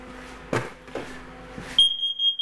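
A carbon monoxide alarm in a house gives a sharp, high-pitched electronic beep near the end, after a few soft bumps and handling sounds, fairly close and loud.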